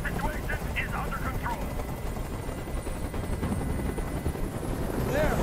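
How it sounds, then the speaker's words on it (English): Helicopter rotor noise from a hovering helicopter in the video game Detroit: Become Human, a loud, steady thudding drone that fills the whole stretch, with faint voices and game sounds underneath. "Tell that helicopter to get out of here."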